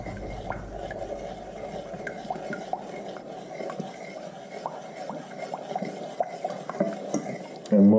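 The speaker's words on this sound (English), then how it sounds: "Give it a stir." A sugar mixture heating in a pot over medium heat, stirred with a spoon that swishes and lightly scrapes the bottom in a steady, quiet rhythm, ending with a louder clatter.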